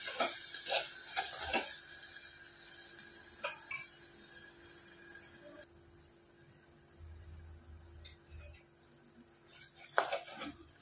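Curry leaves frying with a crab curry base in a pan, giving a soft sizzle with stirring scrapes and utensil clinks, louder at first and quieter later, with a sharp clatter near the end.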